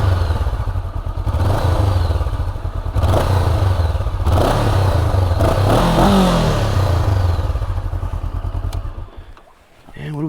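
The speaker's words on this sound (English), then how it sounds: "And it's a parallel twin. Very smooth engine. And it sounds great." A Honda CB500X dual-sport motorcycle with a smooth parallel-twin engine runs close by, a loud, steady throbbing with slight rises in revs before the sound briefly dips near the end.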